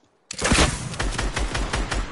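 Gunfire in a shooting video game, a sudden loud burst of rapid shots cracking close in a dense run of reports.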